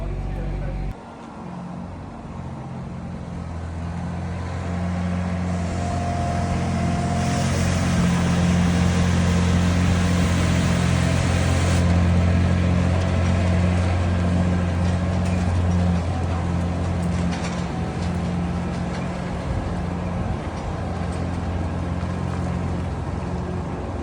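A cherry picker's diesel engine runs steadily and loud while the machine is maneuvered awkwardly out of a narrow yard gap, a constant low drone rising slightly in the middle; speech is faintly mixed in.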